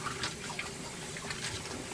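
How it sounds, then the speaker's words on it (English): Raw duck meat is rinsed in a bowl of water, a continuous soft sloshing and trickling close by, with faint splashes throughout and no voices. "So just about 3 times I'm going to wash it"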